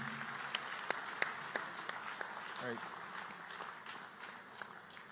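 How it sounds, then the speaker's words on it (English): An audience applauds at the 80th annual conference of the Barbados Labour Party, a steady crowd clapping with scattered louder claps standing out, while a voice speaks faintly underneath. "Let's give a sterling round of applause for our executive taking us into the transformation process of Barbados"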